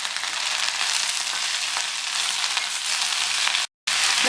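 Drumstick leaves sauté in hot oil for a Tamil murungaikeerai poriyal, giving a steady, close, loud sizzle with a faint stirring scrape, cut by a very short silent gap near the end.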